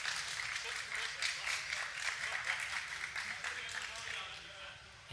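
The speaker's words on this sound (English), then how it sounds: "huge round of applause for them" Steady applause from the crowd at an osu! esports showmatch, a dense wash of clapping that holds evenly and then tapers off slightly at the end.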